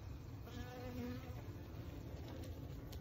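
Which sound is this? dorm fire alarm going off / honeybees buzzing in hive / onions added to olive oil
honeybees buzzing in hive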